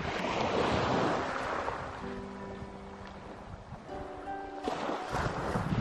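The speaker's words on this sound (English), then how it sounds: "So I hope the wind is not too much." Steady wind buffeting a microphone on a beach with surf rushing in the background; a few faint tonal hums pass through midway.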